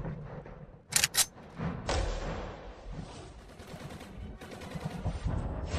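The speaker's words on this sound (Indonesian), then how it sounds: "Ling Xing, Tembak." Guns fired in a staged action fight, a few sharp cracks in quick succession followed by rumbling booms and scattered bursts, mid-distance and moderately loud.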